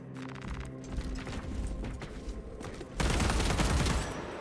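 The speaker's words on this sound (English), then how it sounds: "Oh, that is actually really fast firing." Rapid bursts of bolt carbine fire in Warhammer 40k: Space Marine 2, a fast rattling stream of shots under game noise that swells louder and denser toward the end.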